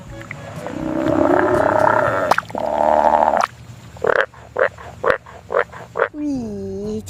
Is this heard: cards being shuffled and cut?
no